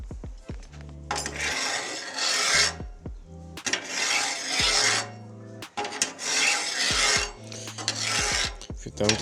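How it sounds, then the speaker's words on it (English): Metal spatula scraping across the steel cooktop of a Blackstone 28-inch griddle, metal on metal, in long harsh rasping strokes repeated several times, loud and close, with no talk. "If you don't like the sound of metal on metal, sorry"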